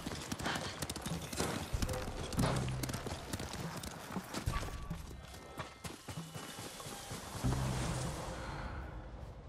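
Horse hooves clip-clop at a steady walking rhythm in the video game Ghost of Tsushima, close and fairly loud over a constant ambient background.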